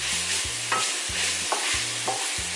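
Ground pork sizzles in a non-stick pan with a steady crackling hiss, broken by rhythmic scraping stirs of a utensil against the pan roughly every half second, close and fairly loud.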